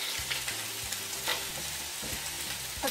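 Onions fry in a pan with a steady close sizzle and crackle, broken by a few low scraping stirs, no talking.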